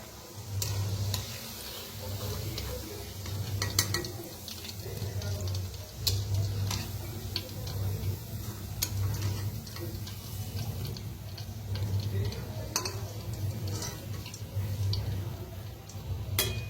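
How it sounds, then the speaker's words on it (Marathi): Gulab jamun dough balls fry in oil over a low gas flame, a steady soft sizzle broken by frequent sharp ticks and pops, close and alone, with no talking. "उरलेले बी तळून घेऊया."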